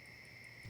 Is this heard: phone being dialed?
yes